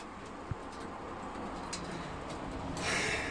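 Pigeons coo softly at a dovecote, faint and low against steady outdoor background noise.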